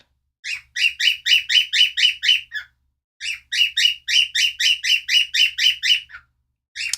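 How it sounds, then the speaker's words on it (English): A pet bird chirps loudly and close by in two long bursts of rapid, repeated bright tweets, with a short pause between them and no talk. "So I'm afraid my bird is getting very loud."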